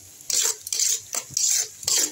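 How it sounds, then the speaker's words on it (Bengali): Onion, ginger and garlic paste frying in a pan is stirred in four brisk, scraping strokes, each a short rasping burst with brief pauses between, close up and with no voices. "পেঁয়াজ, আদা, রসুন এগুলো দিয়ে আবার একটু কষাই"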